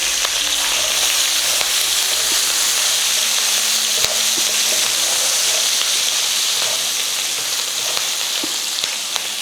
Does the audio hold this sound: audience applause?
no